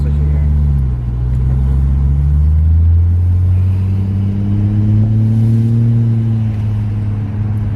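A Ford Falcon XR6 fitted with a new big turbo drives with a loud, close engine drone that climbs and falls through gears, a low rumble with rising harmonic sweeps.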